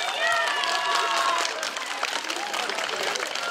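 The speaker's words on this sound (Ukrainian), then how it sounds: "Оплески Мар'янові!" An audience applauds a young man at a Ukrainian Trinity (Green Holidays) celebration, a steady crowd clapping with overlapping cheering voices and livelier noise above it.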